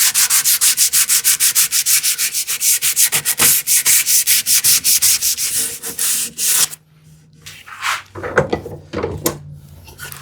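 Wood is sanded by hand with sandpaper in fast, regular rasping strokes, loud and close, then a few scattered rubs and knocks as the work is handled.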